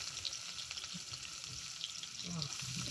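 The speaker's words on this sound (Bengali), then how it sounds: "একটু গরম করে ভেজে নেব।" Green chillies and chopped onion frying in hot oil in a wok, a steady close sizzle with soft stirring scrapes throughout.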